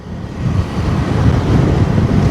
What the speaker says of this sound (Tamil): காற்று இந்த இடத்துல எல்லாம் பயங்கரமாக அடிக்கும்.